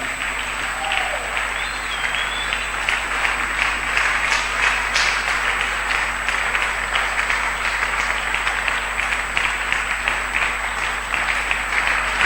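A church congregation applauds in praise of the Lord, a dense, steady, sustained roar of many hands clapping in a large room, continuing evenly throughout.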